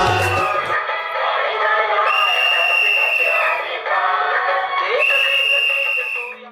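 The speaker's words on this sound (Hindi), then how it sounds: "सुबह उठते ही सीटी की आवाज का कान में पड़ना मतलब सफाई कर्मयोगी का आना।" A sanitation worker's whistle sounds at dawn to announce garbage collection: long, shrill sustained blasts repeated a few times, fairly close, with no speech in between.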